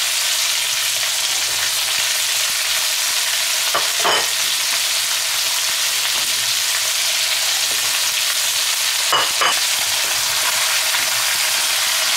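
Prawns and vegetables stir-fry in melted hotpot base in a wok with a loud, continuous sizzle; two short bursts of spatula clatter break in partway through, and no one speaks.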